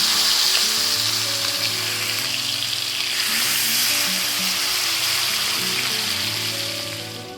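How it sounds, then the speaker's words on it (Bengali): Chicken pieces fry in hot oil in a wok, giving a loud, steady sizzle and bubbling crackle that fades slightly toward the end. "এবার চলো এটাকে ফটাফট একটু তেলে ভেজে নিই"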